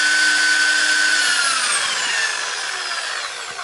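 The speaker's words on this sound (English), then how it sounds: "Then put in the drill, tight it up. I used the sandpaper 2000 for polishing." A drill spins a rear suspension bearing carrier from a Honda Sportrax 300EX quad while 2000-grit sandpaper polishes it, a loud steady whirring grind that slowly drops in pitch as it winds down.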